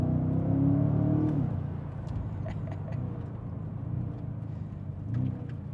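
Exhaust of a BMW G90 M5 V8 fitted with a titanium midpipe, heard as a deep, steady low rumble and burble that swells briefly early on, then settles into an even idle drone.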